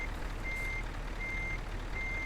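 In Euro Truck Simulator 2, a Scania T730 V8 truck in reverse sounds three evenly spaced reversing beeps over a low, steady engine rumble, faint and slightly distant, with no talk.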